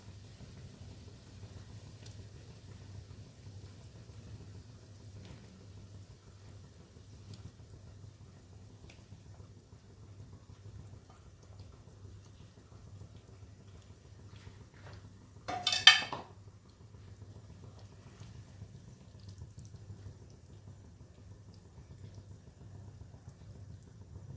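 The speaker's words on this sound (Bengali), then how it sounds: "এখন আমি ঝোলের মধ্যে এই পটলের পুর ভরা পটলগুলো সব দিয়ে দেবো।" Stuffed pointed gourds (potol) drop into gravy in a cooking pot, making a single brief clatter and splash partway through an otherwise quiet, low-humming stretch.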